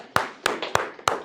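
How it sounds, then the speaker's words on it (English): A few sharp single hand claps in a classroom, four distinct claps spaced evenly over a little more than a second. "let's give her a round of applause"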